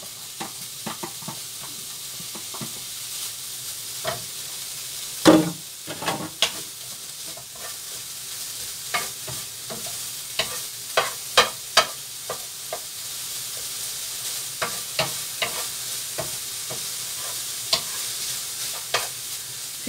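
Bacon frying in a dry, oil-free pan, a steady soft sizzle with scattered crackles and a few sharper scraping stirs, close and without talk.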